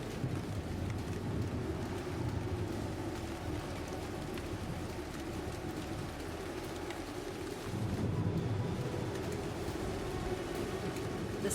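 Steady rain hisses over the Venezuelan Llanos plains while low distant thunder rumbles beneath, the roar swelling slightly toward the end, with no voices.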